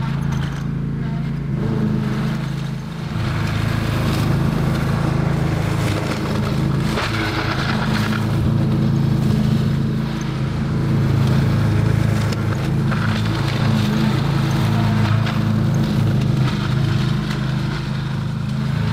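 Tractor engine running steadily while mowing trees, a loud continuous low drone with little variation that stays up close throughout, with faint talk at moments.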